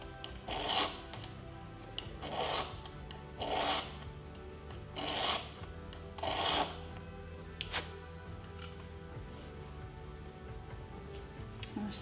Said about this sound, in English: for that I'm currently using 240 buffing stick.